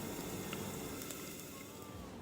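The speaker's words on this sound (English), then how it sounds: "Pop the pan back on the heat and let it sizzle away gently." A steady, gentle sizzle of garlic frying in oil, a constant crackling hiss throughout with a few faint clicks, no voices.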